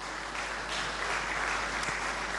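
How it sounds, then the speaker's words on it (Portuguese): Audience applause at a televised music show in a studio, honoring a five-piece band; steady, dense clapping sustained throughout without voices. "para quem eu peço também um aplauso."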